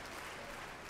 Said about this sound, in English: Crowd appreciating what they're seeing.